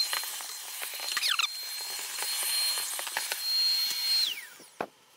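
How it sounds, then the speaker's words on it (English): A vacuum cleaner run over the bed of an Ortur Laser Master Pro hobby laser cutter gives a steady, fairly close whine and airy hiss with scattered clicks of debris, then the motor winds down near the end, followed by a brief knock. "We're gonna do some vacuuming."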